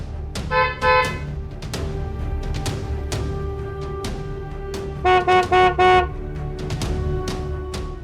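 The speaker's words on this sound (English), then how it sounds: "the driver honked the warning horn" A car horn honks in two bursts, a short double toot and then a longer series of four blasts, over steady traffic rumble.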